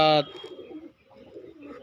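After a brief, loud tonal burst at the start, a group of pet pigeons kept for sale coos in low, gentle, repeated murmurs at close range.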